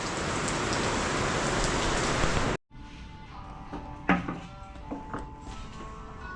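Steady, loud rain pours down on a surface for a few seconds, then cuts out abruptly and gives way to quieter indoor room sound with a few clattering knocks, as if from cabinet assembly work.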